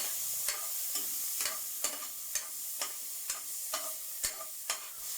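A spatula stirs a sautéed dish seasoned with fish sauce in a pan, giving a regular series of sharp scraping clicks, roughly two per second, over a faint, soft sizzle.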